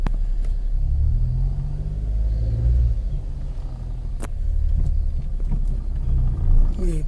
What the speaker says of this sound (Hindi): यहाँ से हम अब ये रवाना हो रही गाड़ी है, इसके द्वारा हम सब चलेंगे